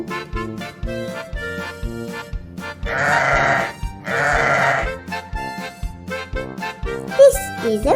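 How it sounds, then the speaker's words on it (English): Two wavering sheep bleats in a row, each about a second long, over an upbeat children's tune with sung lines around them. "This is a sheep,"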